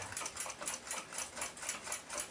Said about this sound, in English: It's quick just to make one on the lathe.